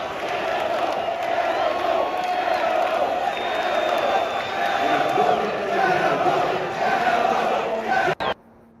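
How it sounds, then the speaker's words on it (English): A packed football stadium crowd roars and cheers wildly after a big play, with a continuous dense wall of shouting and whoops that holds steady for about eight seconds before cutting off abruptly. "The crowd just going nuts."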